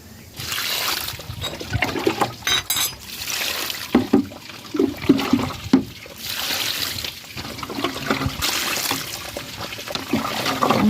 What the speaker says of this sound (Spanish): Ahora lo voy a lavar.